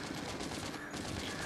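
Mounted gun firing nonstop in the zombie game Into the Dead 2, a dense, steady stream of rapid shots at even loudness with no talk over it.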